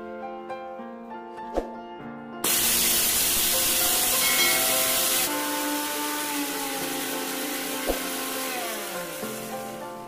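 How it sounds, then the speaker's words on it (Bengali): An electric mixer grinder whirs loudly as it grinds spices for shikanji masala into a fine powder. The steady roar starts abruptly, eases partway through and winds down over a faint musical backdrop. "এখন এগুলোকে একটা মিক্সিং জারে নিয়ে নিচ্ছি এবং এর একটা মিহি পাউডার তৈরি করে নেব।"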